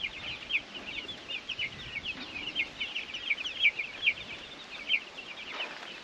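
Meat chickens on a homestead clucking and chattering continuously, many soft overlapping calls at moderate distance with a steady flock murmur and no talking.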